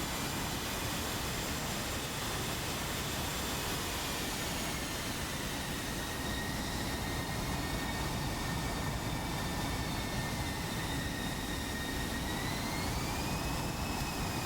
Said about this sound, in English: the F-16s start making their way. One, taxiing. Two, taxiing.